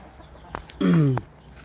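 A rooster of a fighting breed on a Thai farm gives a short crowing call, loud and close, framed by a couple of brief clucks on either side, with no talk.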